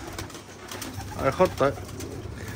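Homing pigeons coo nearby, with three soft pulsed coos in quick succession midway, while someone speaks briefly in the background.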